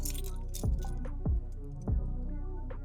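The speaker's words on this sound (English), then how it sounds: "Grab your keys." Keys for a 2018 Ford F-150 jangle and clink close up in three distinct bursts over a steady low hum.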